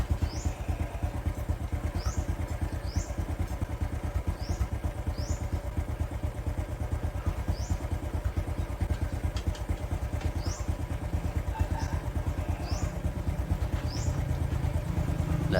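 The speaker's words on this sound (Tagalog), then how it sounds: "umaandar pa rin yung ating makina" A motorcycle engine that had been flooded with water idles steadily nearby, its low rhythmic chugging continuous throughout, with faint light clicks on top and no voices.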